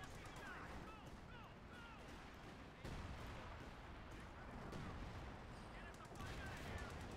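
Artillery and gunfire in the World War II strategy game Company of Heroes 2, a dense, continuous barrage of booms and shots running throughout with a louder surge midway, under faint voice chatter.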